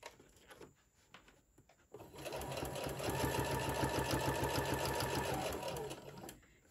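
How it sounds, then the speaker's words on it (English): Sewing machine stitching straight down the side of a fabric pencil case with elastic, a steady rapid mechanical whirring that starts after a few quiet handling sounds and runs for several seconds close up before slowing to a stop. "I'm going to go ahead and gently sew straight down the side."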